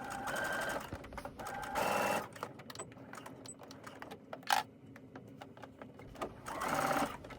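A sewing machine runs in short stitching bursts as it closes the raw edges of a satin scrunchy, with brief pauses between runs and small clicks and handling noises in the gaps.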